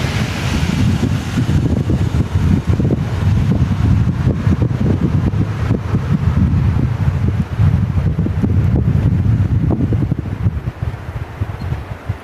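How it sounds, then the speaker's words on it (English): Strong wind buffets the microphone outdoors in the woods, a continuous loud low rumble with gusty fluctuations and some rustling, going on for the whole stretch without any talking. "Sorry guys, I apologize for the wind."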